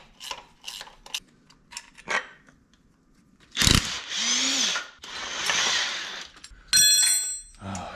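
A ratchet wrench clicks in quick bursts while loosening a motor mount on a rusty Nissan 300ZX, followed by louder rasping turns and metallic clatter close by.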